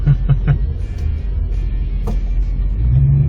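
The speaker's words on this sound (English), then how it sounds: "it brings back all the sounds that I would hear, just the sound the transmission makes and the motor and everything driving it" An old car's engine and transmission rumble steadily while driving, a low continuous drone with occasional light knocks and a faint whine near the end.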